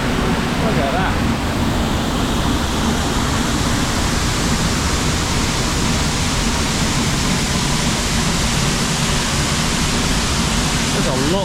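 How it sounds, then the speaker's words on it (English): Heavy waterfall with a great volume of water pouring down, a loud, dense, unbroken roar filling the whole scene up close, with a voice briefly audible over it. "There's a lot of water coming down."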